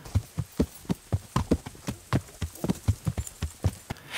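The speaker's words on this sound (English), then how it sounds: "so that our horse will run past next to it" A horse gallops in Kingdom Come Deliverance, its hooves thudding in a quick, steady rhythm with a faint background hum and no speech.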